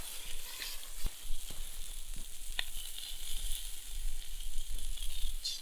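Cooking oil sizzles in a pan over a campfire: a soft, steady hiss and crackle, fairly quiet, with a few small pops and no voices.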